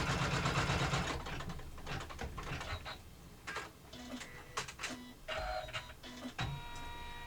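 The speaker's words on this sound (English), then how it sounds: "So we're going to stitch that in the wash away thread." An embroidery machine stitches a pocket placement line in wash-away thread for an in-the-hoop wallet. Rapid mechanical whirring gives way to intermittent clicks, taps and short buzzy bursts, fairly close and moderate in level.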